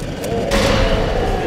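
Gunfire and an explosion in the Resident Evil 2 first boss fight: a dense, loud burst of blasts with a heavier boom about a third of the way in, and the rumbling fire continuing steadily to the end.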